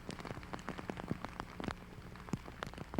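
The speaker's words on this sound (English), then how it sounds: "still there has not been one lull in the rain" Heavy rain pours steadily across a disc golf course during a tournament round, a dense patter of drops striking nearby surfaces with sharper splats popping out irregularly, close and continuous with no voices.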